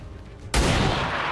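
A hand cannon fires in the XCOM 2 video game with a sudden loud blast after a quiet moment. Its heavy roar rings on to the end.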